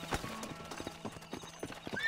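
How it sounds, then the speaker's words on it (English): A horse in Red Dead Redemption clip-clops at close range, a loose rhythm of hoof strikes across the moment, with faint talk in the background. "Oh, the poor horse."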